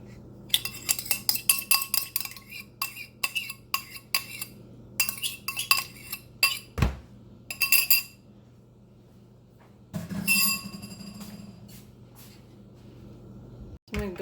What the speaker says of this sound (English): I'm going to go ahead and I'm going to whisk this together